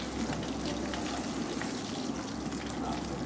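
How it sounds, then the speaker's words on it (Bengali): Pieces of rohu fish fry in oil with a steady, dense sizzling hiss that holds at an even moderate level throughout, close by and without speech. "মাছটাকে প্রথমে আমি ভেজে নিচ্ছি, একটু লালচে করেই ভাজবো মাছটা।"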